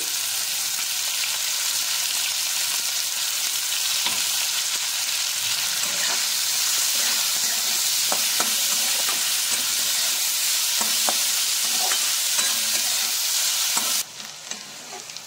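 Two chopped onions frying in oil, a loud steady hiss of sizzling close up with scattered scraping taps of stirring, dropping away abruptly near the end.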